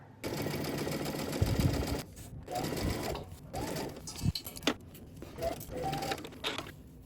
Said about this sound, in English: let's go to the sewing machine. We're gonna go ahead and stitch this side of the zipper down.